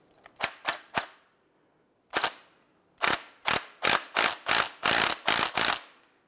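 A nut on the upper bearing plate of a 2012-2017 Toyota Camry strut is driven tight in sharp, loud mechanical bursts: three quick ones, a pause, a single burst, then a steady run of seven. No one speaks.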